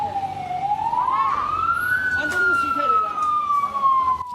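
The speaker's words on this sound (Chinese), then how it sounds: "消防车赶到现场" A fire engine siren wails on arrival at a burning three-storey house, one long rising-and-falling tone that sweeps up then slowly drops, loud and close, with faint voices and street noise underneath.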